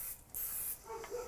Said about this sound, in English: we're gonna spray a little bit on here